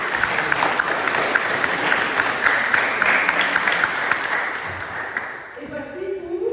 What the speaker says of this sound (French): on peut encore une fois applaudir Véronique aussi